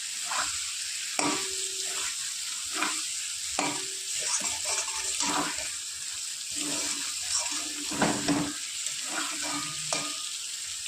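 Boiled potato and papaya pieces stir-fried in a pan with egg, giving close, wet sizzling and repeated spatula scrapes and knocks in an irregular rhythm, with no talking.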